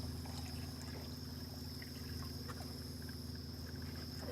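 Water pours into a model river lined with rocks on a flood demonstration table, giving a steady, close trickling wash over a constant low hum, with no voices.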